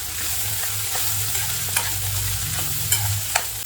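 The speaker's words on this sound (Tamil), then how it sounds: "இப்போ இதை நல்லா மிக்ஸ் பண்ணி விட்டுக்கலாம்" Cooked lentils stirred into cluster beans in an oiled pan for paruppu usili, a steady sizzling fry with a spoon scraping and pushing the mix around, close and continuous, with no voices.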